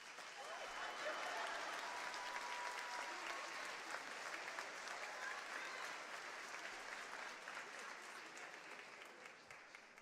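A crowd at a commencement ceremony applauds with broad, steady clapping that swells early, holds for several seconds and then slowly tapers off.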